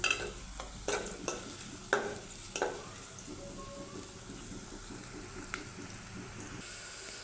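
Sliced onions fry in hot oil for beresta, a soft continuous sizzle with a few sharp scraping stirs near the start, no voices.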